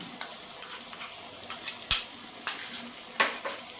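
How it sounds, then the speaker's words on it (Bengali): Onion paste being stirred in a pan for a fish curry with cauliflower and potato, heard as several scattered metallic spoon scrapes and clinks against the pan over a soft sizzle, close by, with no talking. "পেঁয়াজটা দিয়ে একটু নেড়ে নেব।"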